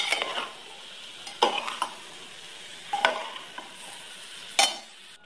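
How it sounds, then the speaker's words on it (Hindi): A spoon stirs masala and tomatoes for aloo baingan in a pan, making four or five sharp scraping clatters against the metal, spaced irregularly over a soft background sizzle. "अब हम इसको अच्छे से चलाएंगे"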